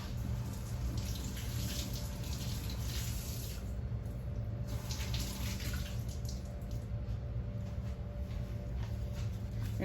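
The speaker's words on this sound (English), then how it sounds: "So I'm just gonna run it through the water a bit." A kitchen tap runs in a steady, full splashing stream as a chile pepper is rinsed under the water, close and continuous throughout.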